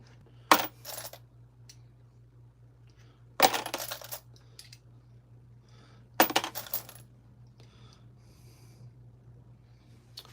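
Brass cartridge cases drop into a container during ammunition reloading, giving three sharp metallic clinks spaced a few seconds apart over a steady low hum.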